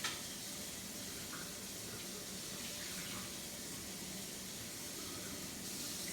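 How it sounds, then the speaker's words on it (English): Steady, close hiss of a running faucet as Vitamix blender blades are rinsed under the tap, continuous and even throughout with faint clinks over the flow. "Take the blades off and rinse those."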